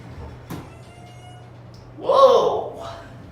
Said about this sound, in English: Ooh, door closed quick.